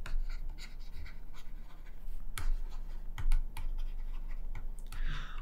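Pen or marker scratching out letters on paper or a board, short strokes in uneven bursts, close and fairly quiet with no talking.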